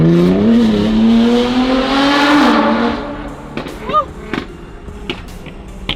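At a car meet, a car's engine revs loud and close, its pitch rising and falling as the driver brakes and accelerates at once. It then fades, leaving short chirps and crowd noise with people talking.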